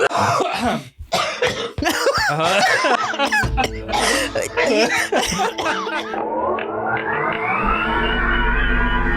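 A person with phlegm in their throat coughs repeatedly in loud, harsh bursts mixed with throat clearing and a bit of laughter, ending in a rising drawn-out tone.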